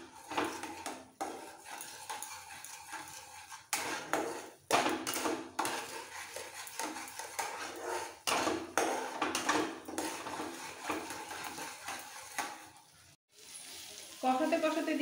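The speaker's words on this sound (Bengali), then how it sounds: "এবার ভালো করে কষিয়ে নেব।" Metal spoon scraping and clattering in a pan as spices are stirred and fried for capsicum paneer, with soft sizzling underneath, irregular bursts of scraping and a voice talking at times.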